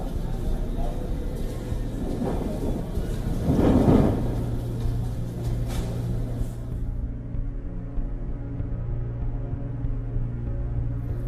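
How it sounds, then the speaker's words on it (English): A massive dust storm with rain over India's national capital region: a steady roar of wind and rain with a low rumble swelling near the middle, continuous and fairly loud. "A massive dust storm accompanied by rain hit the national capital region in India"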